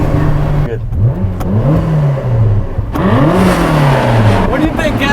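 A twin-turbo V8 Lotus accelerates loudly, the engine note sweeping up through the revs, dipping on gear changes and climbing again, close and continuous.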